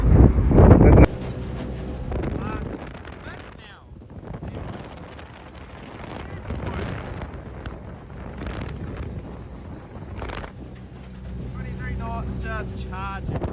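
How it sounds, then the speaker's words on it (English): A kitset Sabre boat heads out on open water with its outboard motor lowered, the engine droning steadily under heavy wind buffeting, with voices talking over it and a loud thump at the start. "And now this is me and Jake going out a second time with the motor lowered"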